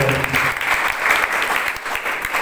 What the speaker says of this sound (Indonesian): Beri tepuk tangan terbaik